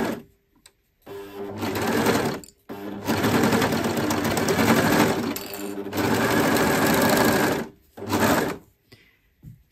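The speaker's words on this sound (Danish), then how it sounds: "Når jeg syr en skuldersøm, så syr jeg den altid fra halsen og ud." A sewing machine stitching a shoulder seam runs in several close, loud bursts of rapid mechanical whirring, separated by short pauses where it stops.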